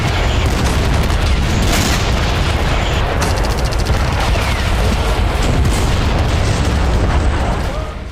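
Rocket and shell fire from Hezbollah strikes in northern Israel produces a continuous dense roar of loud booms and blasts, with a voice speaking over it.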